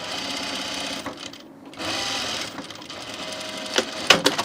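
A sewing machine stitches the yoke seam of a shirt in close, steady bursts, pausing briefly in between, with a few sharp clicks near the end.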